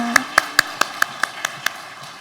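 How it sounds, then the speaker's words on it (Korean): Evenly spaced handclaps, about nine sharp claps in steady rhythm, ring out in a church service after a special lecture, fairly close and with no voices over them. "귀한 특강 전해주신 집사님께 큰 박수 드리겠습니다."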